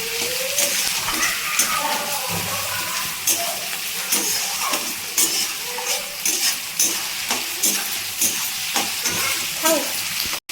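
Onion frying in a pan while being stirred, a steady close sizzle with repeated scraping strokes of the spoon and a voice speaking faintly in the background.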